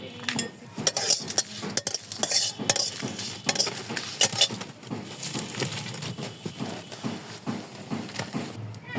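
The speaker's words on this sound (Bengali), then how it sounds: "চুলায় আমি কড়াই বসাই দিয়েছি, এখন মরিচগুলো টেলে নিব।" Chillies are dry-roasted in a kadai, with busy, uneven scraping and clattering as a utensil stirs them against the pan. A faint sizzle sits underneath, and there is no talk.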